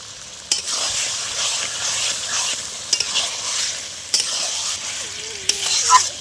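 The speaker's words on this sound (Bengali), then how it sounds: "এবার আমরা তেল ছেড়ে দিয়েছি মশলার থেকে চিকেনটা দিয়ে দিলাম" Chicken pieces stirred and fried in spiced oil in a pot for biryani, with a continuous close hiss of sizzling and periodic scrapes and clacks of the spoon against the pan.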